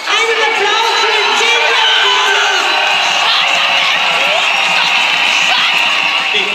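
A loud crowd cheers, whoops and applauds at an outdoor demonstration, a dense sustained roar with scattered shouts running the whole time without letting up.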